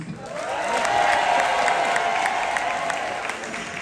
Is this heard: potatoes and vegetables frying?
no